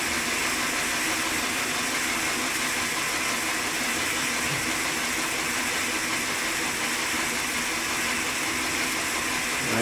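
A model steam engine runs smoothly with a continuous, even hiss and low mechanical hum, steady and unbroken throughout.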